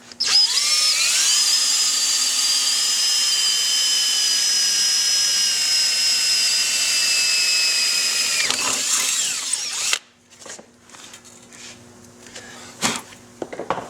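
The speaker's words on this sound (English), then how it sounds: "you're going to just drill a hole about a 1/4 inch size down through the floorboard" A power drill whines steadily at full speed for several seconds, boring a quarter-inch hole through a motorcycle floorboard, then winds down and stops, leaving faint clatter and handling noises.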